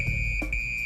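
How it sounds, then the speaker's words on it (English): A firefighter's special personal alarm emits a steady, piercing high electronic tone that holds continuously and loud, with a brief dip midway. "And he's got this special alarm"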